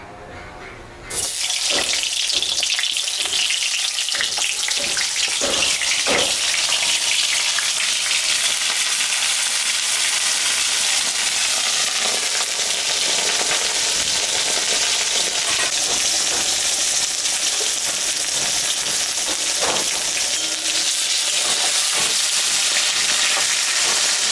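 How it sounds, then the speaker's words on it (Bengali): Pointed gourd (potol) coated with salt, turmeric and sugar fries in mustard oil, a loud, steady sizzle that starts after a brief quiet moment and hisses on without pause, with no talking. "পটলে আমি লবণ হলুদ আর চিনি মাখায় রেখে দিয়েছিলাম এটা এখন আমি ভাজে নেবো"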